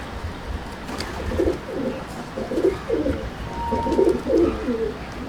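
Pigeons coo in a loft of competition-grade birds, a series of low rolling calls repeating steadily through the stretch at moderate distance, with faint rustling and a brief higher chirp among them.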